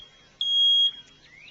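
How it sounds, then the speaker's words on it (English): A single high-pitched electronic beep from a smoke alarm, held for about half a second, clear against a quiet background. "always remember to test the smoke detector every week."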